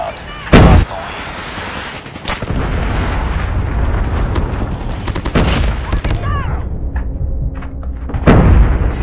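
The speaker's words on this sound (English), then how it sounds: "Hostile Predator missile inbound." A Predator missile strike in a ranked Hardpoint match of a first-person shooter game lands amid dense gunfire and explosions, with several sharp booming impacts standing out near the start and end against continuous battle noise.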